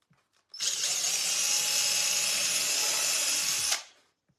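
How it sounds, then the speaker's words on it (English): A power drill bores through an aluminum Christmas light cover in one close, sustained high-pitched whine lasting about three seconds, starting and stopping abruptly with quiet on either side. "what we're going to do then is go ahead and drill the holes for this"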